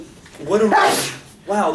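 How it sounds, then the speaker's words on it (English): A loud sneeze in a calculus lecture hall, one sharp explosive burst, close and forceful, with a voice speaking just before and after it. "that was a sneeze grenade"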